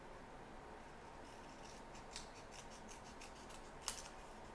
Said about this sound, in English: instead of using the die, I'm just going to use my paper snips